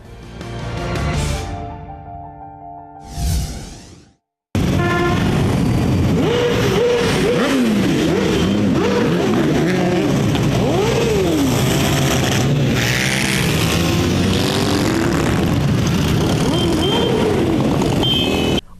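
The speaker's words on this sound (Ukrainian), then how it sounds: "Цьогорічне відкриття мотосезону відзначили не тільки грандіозним мотопробігом" Motorcycles rev loudly at a biker rally opening the riding season in Ivano-Frankivsk, with two separate engine blips near the start, a short silence, then a long, dense, continuous roar of many engines rising and falling in pitch, close by.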